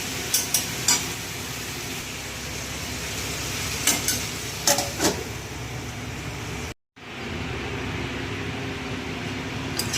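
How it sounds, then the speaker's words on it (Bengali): Vegetables being fried with spices in a pan on a home kitchen stove, a steady close sizzle with a few sharp scraping stirs, briefly cut off before the hissing resumes. "দেখো বন্ধুরা সবজিটা এবার মশলা দিয়ে কষাচ্ছি।"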